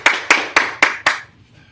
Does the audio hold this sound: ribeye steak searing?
no